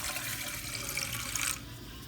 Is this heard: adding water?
yes